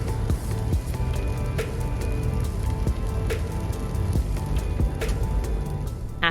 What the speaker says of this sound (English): On this trip, we definitely encountered plenty of rain